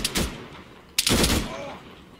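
Two gunshot bursts in a video game, a sharp crack followed about a second later by a louder, longer blast that trails off, close and loud.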